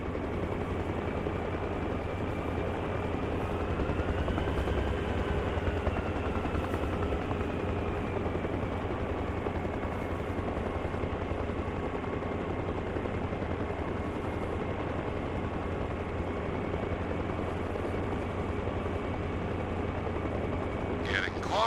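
A helicopter in the military game Arma Reforger flies steadily, its dense rotor thrum and turbine whine filling the air continuously and loudly, with a slight pitch shift partway through.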